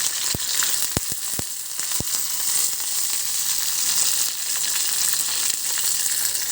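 Green chilies spluttering in hot oil for a tempering, a close, steady sizzle broken early on by several sharp pops and clicks, then settling into continuous frying hiss with no talk.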